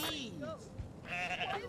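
Goat bleats from Goat Simulator, the game's goat-town characters, two nasal wavering cries, one short and one longer, close and fairly loud, with someone talking around them.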